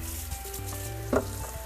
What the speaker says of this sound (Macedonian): Ова се пржи.